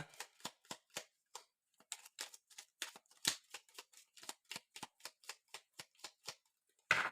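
Oracle cards being shuffled for a reading, a quick run of crisp riffling slaps and flicks in an irregular rhythm, close and clear against silence, ending in one louder burst.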